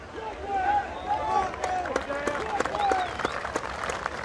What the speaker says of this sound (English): Some encouragement from the crowd